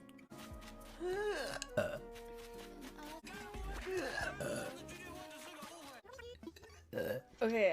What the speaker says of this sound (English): Can I burp on command?